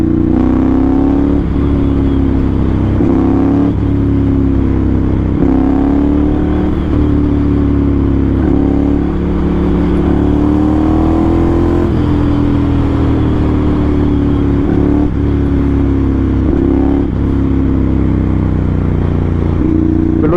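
Ducati Monster 796 motorcycle engine running loud and close for the whole stretch, a steady low rumble that rises and falls with repeated blips of the throttle.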